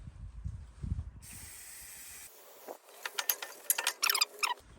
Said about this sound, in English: And we give it a spray down on the outside.